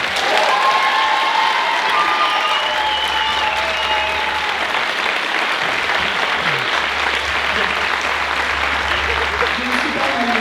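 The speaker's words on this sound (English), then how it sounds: "On peut les applaudir encore très fort" An audience applauds dancers at a dance gala in Sainte-Geneviève-des-Bois, with loud, dense, sustained clapping filling the hall throughout and a low hum beneath.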